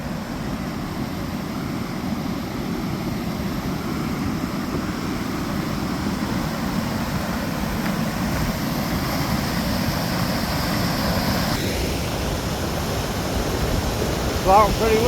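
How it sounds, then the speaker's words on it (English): Floodwater rushes steadily through a pipe, a continuous broadband roar that holds for the whole stretch, with a faint voice near the end. "There's some water piping through it."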